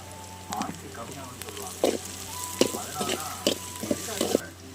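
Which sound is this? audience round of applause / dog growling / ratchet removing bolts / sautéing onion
sautéing onion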